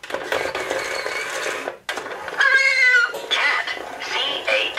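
A See 'n Say talking toy plays a recorded cat meow, a loud tonal mewing sound preceded by a mechanical whirring, with a brief pause before the meow.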